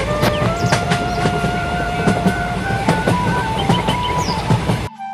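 In a cartoon, a Sealdah local train pulls into a station with a loud, continuous rumble, sustained horn-like tones and scattered clanks, then cuts off abruptly near the end.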